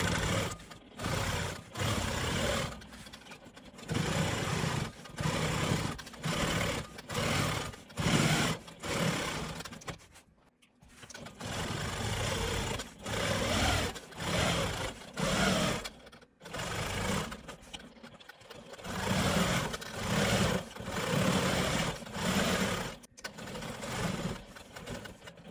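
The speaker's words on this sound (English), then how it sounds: "now I'm going to stitch around the perimeter of this block" A Quilt Maker Pro 20 quilting machine stitches around the perimeter of a quilt block, whirring loudly in long runs broken by short pauses, with one clear stop near the middle.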